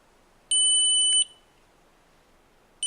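A Beninca ES.MINI gate motor module gives a sharp, high electronic beep lasting under a second, followed by silence and the start of another beep at the end; no talking.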